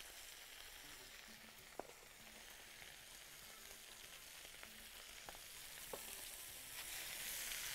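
Garlic cooking gently in oil with a spoonful of ghee gives a soft, steady sizzle, quiet and even, with a few faint clicks of a utensil against the pan.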